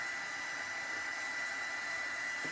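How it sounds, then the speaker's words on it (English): A heat tool runs as a steady, loud whoosh of blowing air, drying part of a rustic winter craft bottle project. It carries on without pause the whole time, and no one speaks over it. "Let's dry that part so we can glue it together."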